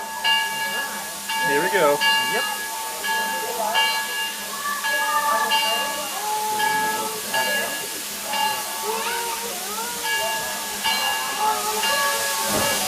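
A small steam train at the Hesston Steam Museum hisses steadily, with whistle-like tones sounding on and off over nearly thirteen seconds while people talk briefly nearby.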